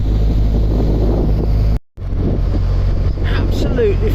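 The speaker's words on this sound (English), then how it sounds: "Oh, this wind's bitter." Icy October wind blows across the open fens beside narrowboat moorings, a steady loud roar of buffeting on the microphone with a brief dropout midway, then gusting resumes.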